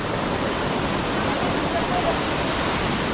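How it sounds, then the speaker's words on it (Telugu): Rushing water at Elephant Falls, Shillong, Meghalaya fills the air as a dense, even roar close by, steady throughout with no talking over it. "ఈ చిన్న బొక్కలో నుంచి వాటర్ వస్తున్నాయి"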